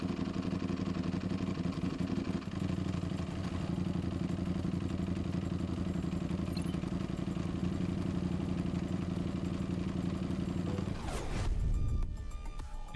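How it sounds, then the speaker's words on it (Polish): A Ducati motorcycle in the RiMS Racing video game starts up and settles into a steady, throbbing idle with a deep rumbling tone, then revs sharply and cuts off near the end. "Odpalę silnik."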